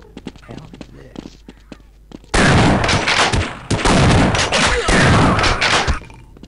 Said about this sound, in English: Shotgun! Shotgun! Shotgun!